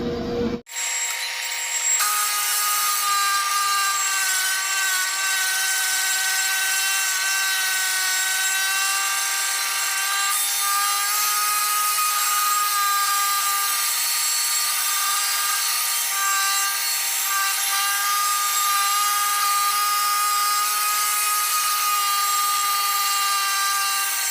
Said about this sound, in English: We're going to go ahead and first sand these on down to our panel width